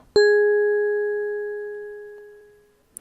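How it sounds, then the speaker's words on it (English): A single clear bell strike rings out with a pure tone, then fades slowly over about three seconds until near silence. "Now listen to the bell signal on its own again."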